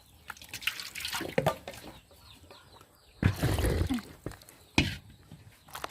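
Water splashes and runs in bursts as frog meat is rinsed and washed for curry, with intermittent sloshing and handling noises close by and pauses between.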